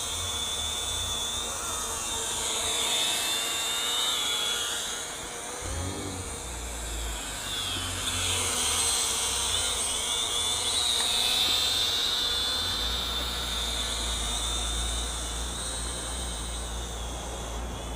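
An Eachine E58 drone, a Mavic clone, hovers and descends to land outdoors, its whiny high-pitched propeller buzz steady and fairly close, shifting in pitch as it maneuvers, with no talk over it.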